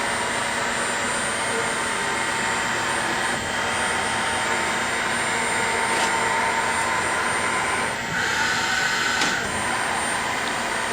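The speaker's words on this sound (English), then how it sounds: "Spindle speed's running at 1250." A Southwestern Trak DPM-V5 vertical bed mill with a Ridgid head runs its spindle at 1250 rpm, a steady mechanical whine and hum over broadband noise, with a few brief clicks and shifts in tone and no speech.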